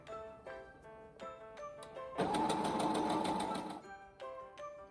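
A domestic sewing machine stitches a cloth face mask in one steady, close burst lasting about two seconds, framed by quiet soft background music before and after.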